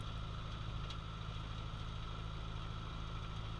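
A small aircraft engine runs up steadily before shutdown, droning at an even pitch, with a constant low hum and faint mechanical buzz and no voices.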